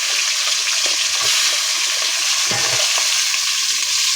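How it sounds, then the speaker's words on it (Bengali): Sliced onions hit hot oil in a pan and fry with a loud, steady, close sizzle that runs the whole time, with a few stirring scrapes on top and no voices. "এই তেলের উপর দিয়ে দিচ্ছি"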